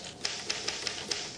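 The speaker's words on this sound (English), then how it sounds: "Typewriter's making an awful lot of noise to be working on nothing." Typewriter keys strike in a steady series of five crisp clacks over a constant background hiss, with no talking.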